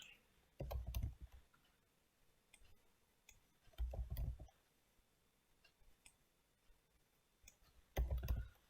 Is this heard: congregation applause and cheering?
no